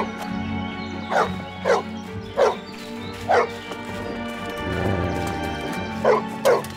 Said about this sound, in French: Arrive un chien enragé.